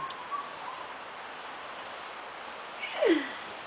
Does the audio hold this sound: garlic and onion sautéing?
no